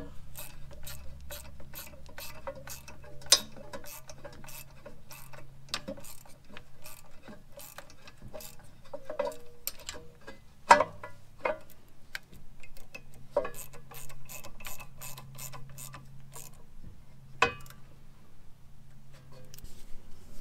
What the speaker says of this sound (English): This is the parking brake. So wiggle it a little bit.